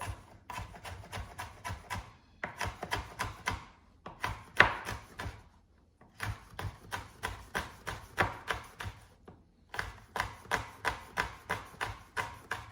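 A knife cuts chile into sticks and dice on a board, making quick rhythmic chopping taps in bursts of about a dozen strokes separated by short pauses, close up and with no talk.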